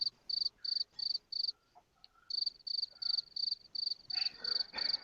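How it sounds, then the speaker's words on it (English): Crickets chirp in rapid regular bursts, a steady high trill repeating about every half second, close and clear with no voices, as a stock sound effect cueing an awkward silence. "It was crickets."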